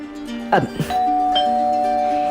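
A doorbell sounds with a ringing electronic chime that sustains after the press, faint rustling and short noises before it, in an indoor setting with music-like tones lingering.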